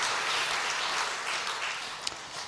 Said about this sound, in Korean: 이 팀, 감사와 축복의 박수 한번 할까요?